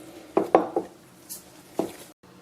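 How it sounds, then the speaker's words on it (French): Bread dough kneaded by hand in a home kitchen: a quick run of soft slaps and thuds, a quiet pause, then one more thump near the end. "Donc, on pétrit pendant une dizaine de minutes."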